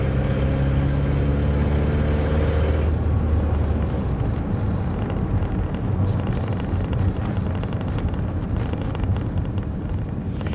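An old pickup truck engine is revved briefly, a loud sustained rising tone that drops off after about three seconds into a rough, windy idle rumble, close to the microphone.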